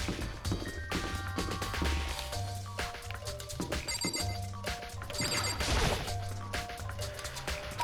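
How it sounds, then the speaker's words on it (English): A ringing doorbell chime sounds twice in the video game Danganronpa among clattering game sound effects and busy background noise. "There's a doorbell,"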